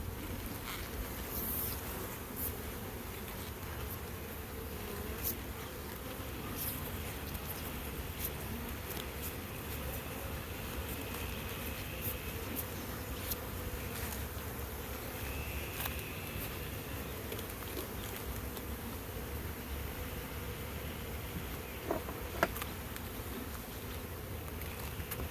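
A dense, steady hum of many honeybees buzzing close by around a hive frame, sustained throughout with occasional small clicks and bumps.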